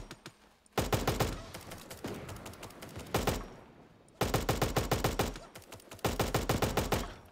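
Super Animal Royale video game gunfire comes in rapid automatic bursts, with several loud, close volleys separated by short pauses.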